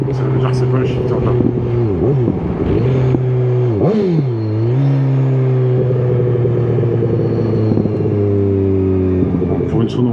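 A BMW S1000R motorcycle engine idles with a steady rumble, then quick throttle blips on downshifts make the pitch jump and fall twice before it settles back to a smooth, close-up drone, with a rider talking over it.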